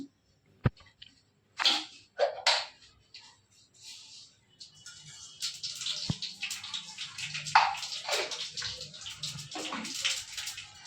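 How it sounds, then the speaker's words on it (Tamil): Mustard seeds crackle and pop in hot oil in a pan, with scattered sharp snaps early on that grow into a denser, continuous spatter of crackling toward the end, close and fairly quiet. "எண்ணெய் காய்ஞ்சிருச்சு, கடுகு போடலாம்."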